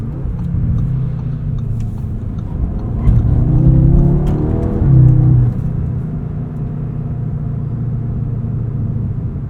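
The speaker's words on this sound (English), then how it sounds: "Double downshift there." A 2025 Audi S3 engine hums steadily, then revs up sharply twice in quick succession during a double downshift before settling back to a steady drone.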